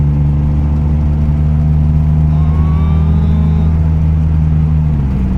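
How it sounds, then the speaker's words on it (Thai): A Daihatsu Mira with a fixed fuel injector fault, its small engine running steadily up close as it drives through the gears, a constant droning hum with a faint whine. "ก็มาทำให้มันเครื่องติดเดินนิ่งวิ่งได้ดี"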